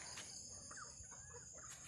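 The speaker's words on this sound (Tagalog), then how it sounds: "May mga chicken." Chickens clucking around a rural farmhouse yard, a few faint, distant clucks over steady insect and ambient hum.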